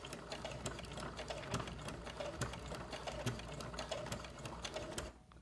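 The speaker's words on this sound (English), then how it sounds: "I'm going to do a whole row of back stitches, going over that again" Sewing machine running back and forth over a quilted pot holder to lay down rows of back stitches, a steady close mechanical whir with rapid ticking needle strikes, continuous and alone before stopping abruptly at the end.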